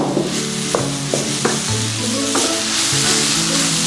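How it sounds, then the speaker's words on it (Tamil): Boiled, mashed potatoes are stirred into a vegetable cutlet mixture and sautéed in a pan, giving a steady close sizzle with scraping stirs over soft background music. "அதையும் போட்டு இதில் மிக்ஸ் பண்ணி நல்லா வதக்கி விடுவோம்."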